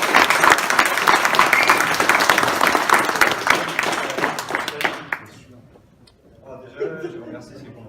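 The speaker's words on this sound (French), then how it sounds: "je vous demande d'applaudir très fort" An audience at a pony fan convention applauds loudly and densely for about five seconds, the clapping then cutting off sharply before a voice begins speaking.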